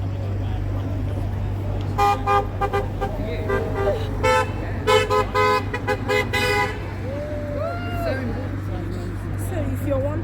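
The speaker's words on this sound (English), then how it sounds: "So that's why when they're driving past, they're honking to support nurses." Passing cars honk in support of striking nurses at a roadside demonstration, with several short horn toots and longer blasts over steady traffic noise while people talk nearby.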